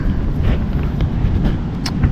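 Wind gusting outdoors beside a fish-grilling fire while fishing, buffeting the microphone with a loud, continuous low rumble and no pauses.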